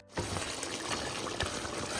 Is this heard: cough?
no